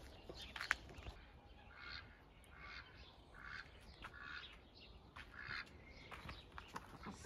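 Ducks quack in a series of nasal calls spread across the clip, fairly faint and at a moderate distance, over a low steady outdoor background with no talking.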